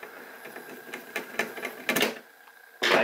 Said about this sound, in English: take one of our big, big top hat screws and put it right back through the trigger and screw it down